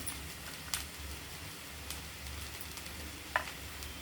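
Garlic and green chillies sizzling in oil over frying okra, a faint steady hiss with a couple of sharp pops or utensil taps, close but quiet.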